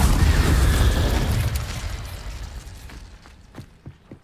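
Incendio fire spell cast in Hogwarts Legacy, a loud whooshing blast of flame that rumbles and slowly decays over a few seconds, followed by a few faint clicks and pops.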